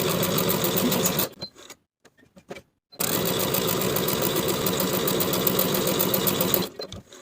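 A sewing machine runs basting stitches across a peplum seam allowance in two loud, steady bursts, with a short pause between them and no talk.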